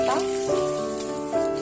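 Asafoetida and cumin sizzle in hot oil in an iron wok while preparing aloo pyaza, a steady crackling hiss running under a voice that talks throughout.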